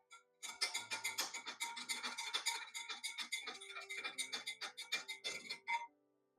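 A spoon stirs milk with Rooh Afza syrup and basil seeds in a glass, a steady run of quick clinking and scraping strokes close up, with no talking.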